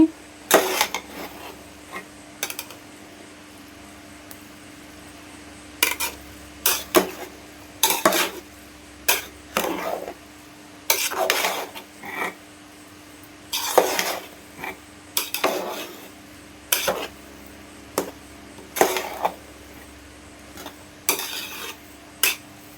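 Pulao rice is stirred in a pot with a metal spoon, heard as repeated scraping and clanking strokes in bursts separated by short pauses, close and fairly loud, with a faint sizzle underneath.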